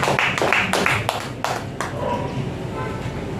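A church congregation claps for the Lord during a service: a short run of loud, evenly spaced claps that stops abruptly, leaving a low murmuring room tone.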